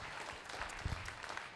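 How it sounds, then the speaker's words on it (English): Faint applause from an audience at a real estate investors' business event, a brief patter of distant clapping heard at low level. "can we all give Ted a round of applause for setting this up?"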